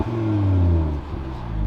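An Audi RS3 with a sports exhaust gives a short, close rev, its engine note rising and falling in one throaty blip before settling.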